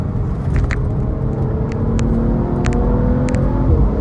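A 2013 BMW M135i being driven, its engine a steady, loud low rumble with road noise from inside the cabin, a few faint clicks scattered throughout and no talk.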